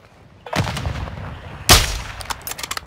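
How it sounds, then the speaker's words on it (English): Video game firefight with a grenade going off: a loud broadband blast near 0.5 s and a second sharper explosion around 1.7 s, with bursts of gunfire crackling between and after, no talk. "Grenade out!"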